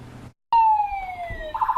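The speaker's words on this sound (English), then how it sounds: "Sirens were a familiar sound on March 2nd, 2012." A loud, close siren wails in a steady descending tone, then shifts to a higher pitch near the end, with a low rumble beneath.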